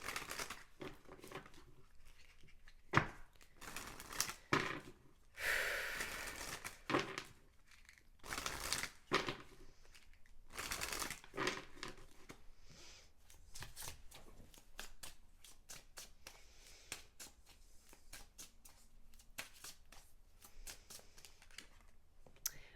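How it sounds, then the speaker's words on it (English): Rapid papery riffling and soft slaps of a deck of message cards being shuffled up close, in bursts separated by short pauses. "let's shuffle some message cards"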